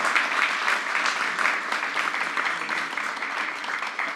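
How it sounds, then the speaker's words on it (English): An audience claps at the close of a panel discussion, a dense, sustained round of applause that stays loud and even before tapering slightly. "Let's have a round of applause for our guests today."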